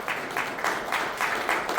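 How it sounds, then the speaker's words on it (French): Church congregation applauding during an anniversary service, steady rhythmic clapping in unison at a brisk even pace, fairly close and filling the space, no speech over it. "on applaudit la présence de Dieu"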